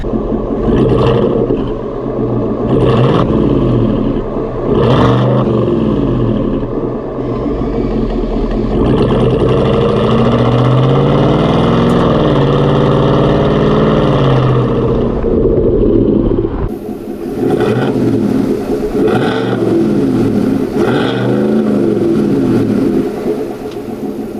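A deep, loud Chevrolet Silverado pickup with a Corsa sport exhaust drones and rumbles continuously, swelling as the engine revs up and then easing back, with no one speaking.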